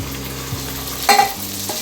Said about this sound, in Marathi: आता मी टोमॅटो टाकून घेते.